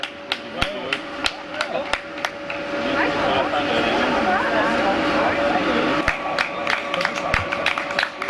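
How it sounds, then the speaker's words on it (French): An audience applauds at a prize ceremony for the Transmartinique 2018 race. Scattered sharp claps build into a dense, sustained ovation in the middle, then thin back to isolated claps, with someone talking throughout. "On l'applaudit bien fort"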